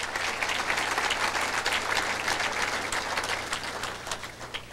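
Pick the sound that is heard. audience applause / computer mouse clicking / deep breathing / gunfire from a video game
audience applause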